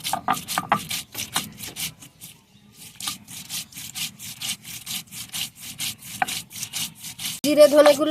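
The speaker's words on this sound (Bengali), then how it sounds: "এখন আদা রসুন কাঁচামরিচ বেটে নেব জিরে ধনেগুলো" Ginger, garlic, green chilies, cumin and coriander are ground coarsely by hand with steady, rhythmic rubbing strokes, close and continuous, with no talk over them.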